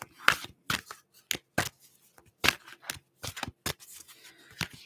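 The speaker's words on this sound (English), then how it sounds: "I have to shuffle them a bit more." Tarot cards being shuffled by hand in short, crisp bursts of riffling and flicking, close and dry, separated by brief pauses.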